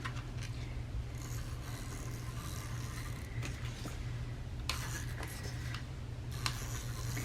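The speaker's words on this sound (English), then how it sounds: "So all we're going to do is just add adhesive to our scrapbook paper" Glue being spread across scrapbook paper for a handmade bookmark, a soft continuous scratchy rubbing with brief brushy bursts over a steady low hum.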